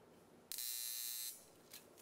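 A spark gap timer in a physics lab buzzes loudly as it burns marks onto paper tape, a steady electric drone lasting under a second before cutting off.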